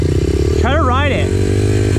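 A pit bike engine revs up and down as it is ridden in first gear, the rising and falling whine close and loud, mixed in with a steady background drone.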